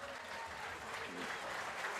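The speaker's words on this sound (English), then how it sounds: "the crowd really appreciating that, Ian." A rugby league crowd at a Swinton Lions home match in 2023 applauds a try, a steady, dense wash of clapping and cheering heard from a distance across the ground, with commentators faintly talking underneath.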